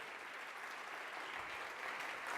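Church congregation applauding during an evening worship service, a steady wash of clapping that stays even and moderately distant for the whole stretch, with no voices over it.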